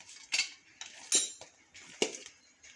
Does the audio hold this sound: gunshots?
no